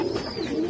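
A single soft, low coo from a pigeon at a pigeon farm of Budapest and racer breeds, brief and close with no talk over it.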